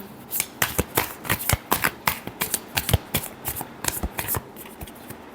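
A tarot deck is riffled and shuffled by hand close up, giving a quick, rhythmic run of crisp card slaps and flutters with brief gaps between bursts.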